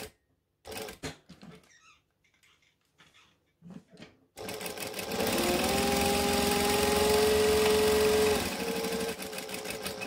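After a few scattered clicks and handling noises, a domestic sewing machine starts up and runs steadily, stitching a rectangle in a loud continuous whir with a slight change in pitch near the end.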